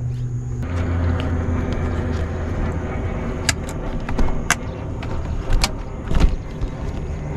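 A car drives along a mountain road in the rain with a continuous low rumble. Scattered clicks and knocks rise near the end, and no one talks.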